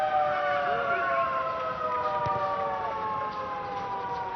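Halftime siren at the Dubai Rugby Sevens stadium, a long sustained wailing tone held over the constant roar of the crowd for the whole stretch.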